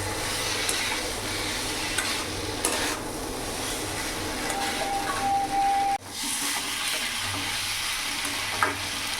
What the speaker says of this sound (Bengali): এবার আমি কচি সজনে ডাটাটা আলুটা পুরোটা দিয়ে দেবো ভালো করে নাড়াচাড়া করে মিশিয়ে নেবো